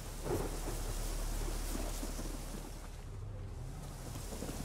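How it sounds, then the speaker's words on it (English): Steady rain and rolling thunder fill a thunderstorm in the video game The Witcher 3, a continuous loud roar of downpour with deep rumbling underneath and no talk. "A storm, damn it."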